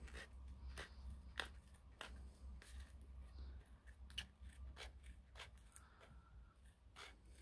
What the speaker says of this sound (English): These are the scissors you need. You want to cut in paper.